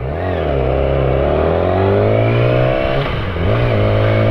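A Yamaha R6 sport motorcycle rides along a road in Greece on a cool summer morning, its engine droning loud and close with rising and falling pitch as the rider shifts and changes speed.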